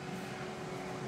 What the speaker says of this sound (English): I'm just doing some sausage rolls in the air fryer. Probably hear it in the background.